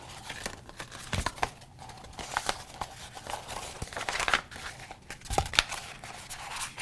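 Vinyl transfer tape folded back from its backing at a craft table gives soft crinkling and light tearing rustles, quiet and close, in scattered bursts without speech.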